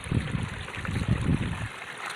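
Water pours and trickles steadily down a forest stream in the Angong Hrông creek, a close, continuous gurgling flow with bursts of splashing that stop abruptly near the end.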